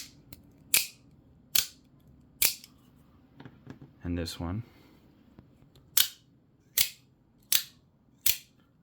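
A Microtech Scarab 2 Gen 3 OTF knife, greased with white lithium grease, fires and retracts its blade with crisp, loud mechanical snaps and no spring ringing. Eight close-up clicks come at a steady pace, with a short spoken phrase midway.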